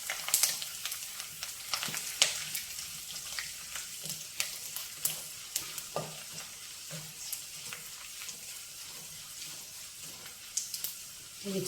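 Garlic cloves, urad dal, cumin, mustard seeds, dried red chillies and curry leaves fry in hot oil for a Telugu tempering, giving a steady close sizzle dotted with sharp pops and crackles throughout.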